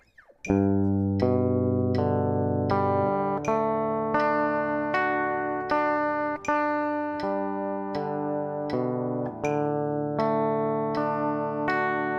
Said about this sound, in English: try to pluck one string per click within the chord and then move on to the next chord